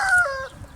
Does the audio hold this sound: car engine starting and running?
no